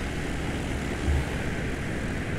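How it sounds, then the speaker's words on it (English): Steady, loud propeller drone of a Cessna 172 light aircraft in straight cruise flight over Helsinki, a continuous engine roar filling the cabin with no voices. "this is basically a Cessna manufactured aircraft"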